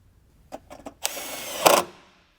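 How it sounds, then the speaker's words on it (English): Airbox mounting bolt being threaded back in and tightened on a 2013 Mustang GT during a cold air intake install: a few short close clicks, then a sustained whirring burst from a power tool that stops abruptly. "Now reinstall the bolt"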